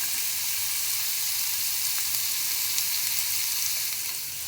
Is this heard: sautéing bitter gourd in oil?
yes